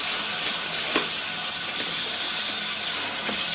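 Water runs steadily from the tap of a toy dishwasher sink, a soft continuous splashing trickle with faint drips, no voices.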